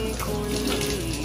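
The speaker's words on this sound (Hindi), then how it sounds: "और इसको आपने धो लेना है खजूरों को वॉश करके" Tap water runs in a steady, close gush while a few dates are rinsed, with no talking.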